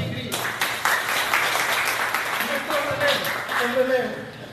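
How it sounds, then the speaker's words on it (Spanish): Audience applause at a reading marathon welcoming a writer, a steady wash of many hands clapping from the start, with some voices and murmuring mixed in throughout. "Un aplauso."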